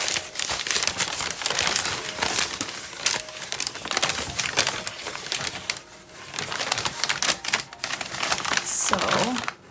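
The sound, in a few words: crinkling craft paper for a bullet journal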